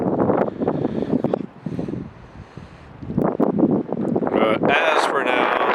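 Strong, gusty wind buffets the microphone while canoeing on big open water, roaring in surges with someone talking over it.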